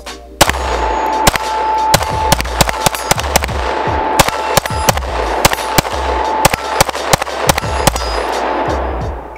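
Rapid gunshots from an Agency Arms Syndicate S2 compact kit carbine, around two dozen sharp loud reports fired in irregular quick bursts at close range, each with a short ringing tail, without talking between shots.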